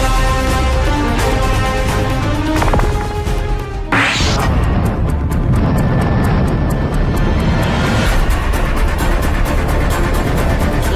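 A loud, steady roar of a jet aircraft with a sharp thump partway through, followed by continued engine noise and rumbling as the plane comes down.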